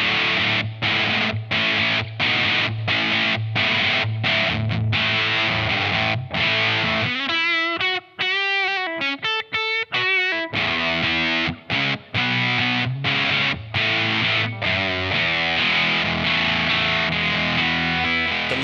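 Heavily fuzzed electric guitar through a Big Muff fuzz pedal plays chunky chords and a sustained note passage, thick and saturated with a scooped midrange, loud and alone.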